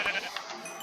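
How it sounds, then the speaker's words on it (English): Sheep bleating in the Minecraft video game, a short pair of bright nasal bleats standing alone and fairly loud, with no talk over them. "Oh look, more sheep."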